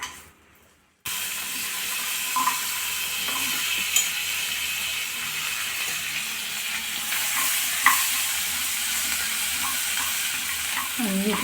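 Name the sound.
frying onions, tomatoes, cashews, cloves and cinnamon in pan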